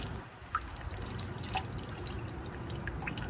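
Water dripping in a hydroponic vertical grow tower with rock wool, faint scattered drips and trickles over a low background hiss.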